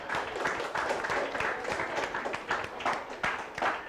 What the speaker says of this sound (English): Give a clap for it.